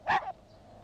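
A single short, sharp dog bark close by indoors, followed by quiet.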